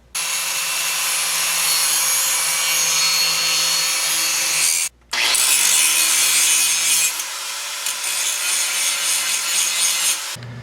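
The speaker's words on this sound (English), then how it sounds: "I'm going to try and grind the tip of this ball joint down" Continuous broadband grinding against metal on the tip of a car ball joint during a rear brake swap, loud and steady for about five seconds, a brief pause, then grinding resumes and carries on alone without talk.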